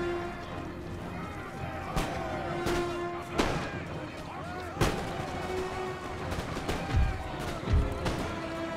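Musket volley fire from a Swiss Guard platoon in Empire Total War crackles in repeated sharp bursts, several loud shots spread across the scene amid battle noise and a talking voice.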